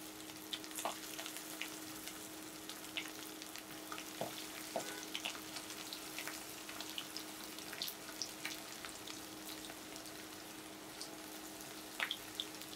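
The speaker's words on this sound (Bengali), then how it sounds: "আধা কাপের মতো রান্নার তেল প্যানে দিয়ে ভালো মতো গরম করে মুরগির মাংসগুলো এভাবে দিয়ে দিচ্ছি" Chicken pieces fry in half a cup of hot cooking oil in a pan for a Mongolian-style chicken dish, giving a steady, moderate sizzle with scattered small crackles and pops throughout, and no talking.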